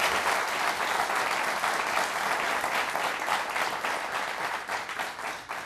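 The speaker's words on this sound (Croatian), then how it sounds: "Još jedan aplauz za Vučka" Sustained applause from a studio audience on a TV talk show, dense and steady throughout with no break, fading slightly toward the end.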